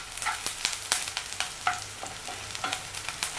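Chopped onions stirred and frying in a pan for a tomato and peanut curry, with a constant close sizzle broken by frequent scraping and clinking strokes of the spoon.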